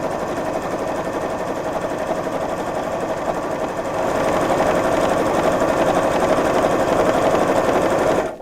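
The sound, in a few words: sewing machine top stitching a quilted tote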